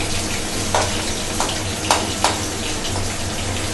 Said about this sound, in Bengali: কুচি পেঁয়াজটা দিয়ে একটু ভেজে নেব পেঁয়াজটাকে।